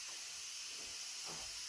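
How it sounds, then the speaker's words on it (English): A steady hiss of steam from an Instant Pot pressure cooker cooking noodles, with a few faint soft gurgles underneath, heard close and alone. "The Instapot's gurgling, so I think the first batch of noodles is about done"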